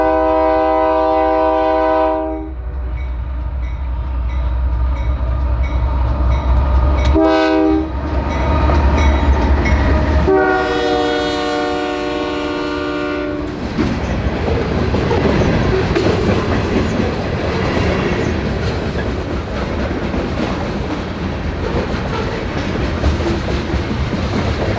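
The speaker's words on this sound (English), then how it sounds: "we'll see C788 hauling coal loads southbound towards Decatur." A Canadian National freight train, C788, hauls coal loads southbound toward Decatur, its horn blaring in several long blasts before giving way to a steady rumble and clatter of heavy wagons rolling past close by.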